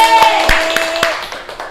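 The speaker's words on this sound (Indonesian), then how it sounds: "tepuk tangan untuk Mbak Rosi." A few sharp claps ring out at uneven intervals during a classroom microteaching session, brief and close, with a steady tone and faint voices in the background.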